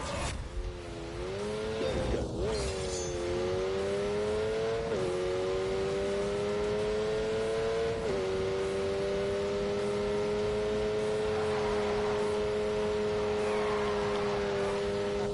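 A Lamborghini in The Grand Tour Game revs hard through several gear changes, its loud, high engine note climbing and then dropping with each shift before holding a sustained steady roar.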